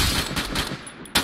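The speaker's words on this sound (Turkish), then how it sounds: "Abi silah sesleri geliyor." Dense, rapid machine-gun fire from the video game Free Fire Max, a continuous rattling burst with a sharper crack near the end, loud and without talk.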